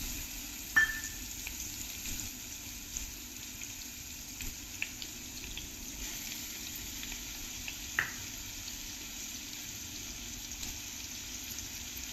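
Mixed fruits fry in a little ghee for a Navratri fasting dish, a faint steady sizzle with a couple of soft clinks, no voices.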